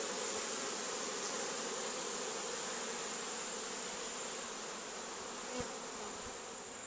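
Tasmanian honeybees drone steadily at a hive entrance, a continuous faint buzz of many bees close by with no talking over it.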